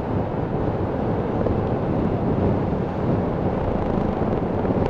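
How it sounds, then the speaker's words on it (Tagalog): Strong wind roars continuously, a dense rumbling rush buffeting close by without pause. "malakas ang hangin"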